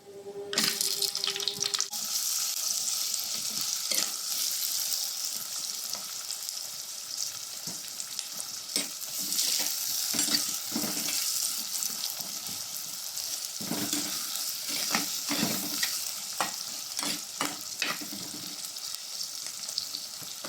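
Onions frying in a pan with whole cinnamon, cloves and cardamom for a Tamil chicken kulambu, a steady close sizzle with occasional stirring scrapes and brief water-like bursts throughout, no talk.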